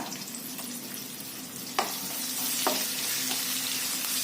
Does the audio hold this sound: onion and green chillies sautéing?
yes